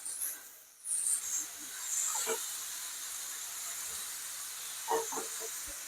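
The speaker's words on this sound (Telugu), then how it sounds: "ఆల్రెడీ మ్యారినేట్ చేసి పెట్టుకున్న చికెన్ ముక్కల్ని 1 by 1 అందులో వేసుకునేస్తాము." Marinated chicken pieces for a garlic chicken dish sizzle in a hot pan with a steady close hiss, broken by a few brief pops and crackles.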